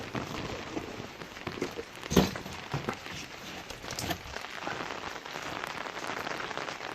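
Steady rain patters on the surfaces of a vintage-style rural country cottage, a continuous close hiss of drops with a few louder splashes rising briefly above it.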